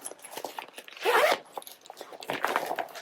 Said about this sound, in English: Little zipper compartment up here.